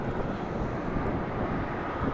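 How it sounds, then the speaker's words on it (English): An Airbus A321 takes off from Charlotte Douglas airport on a windy morning, its engines a loud, steady low roar with wind rumbling across the microphone, and no voices. "Dang, nice early rotation for the A321"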